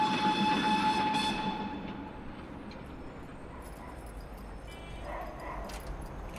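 The Tren de las Nubes, a train running at 4,300 metres altitude in the Argentine mountains, gives a steady rumble that fades from louder to quieter, with a faint dog barking now and then.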